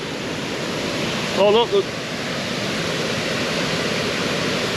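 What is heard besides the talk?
loud waterfall at old mill ruins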